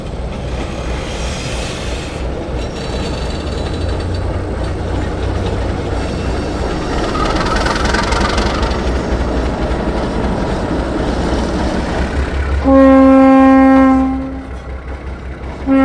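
An ALCO S-6 diesel switcher locomotive rumbles steadily past while running down a street, with rolling wheel clatter, then a loud horn blast sounds near the end.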